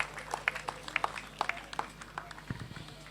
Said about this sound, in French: Est-ce que nous pouvons les encourager avec nos applaudissements,